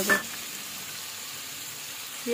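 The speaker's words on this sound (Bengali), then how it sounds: "মশলার সাথে টমেটো ভালোভাবে কষিয়ে নেব" Spices and tomato sautéing in a pan give a steady low sizzle, opening with a brief clink or scrape of the utensil and with another faint touch at the end, no voices.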